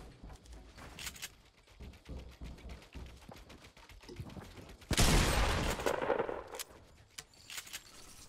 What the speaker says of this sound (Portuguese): Eu errei muito tiro aqui.